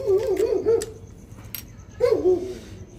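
A frightened dog whimpers and yips near a parked motorbike, two bursts of high, wavering cries about two seconds apart over a steady low background rumble.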